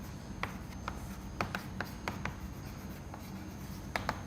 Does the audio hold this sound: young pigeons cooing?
no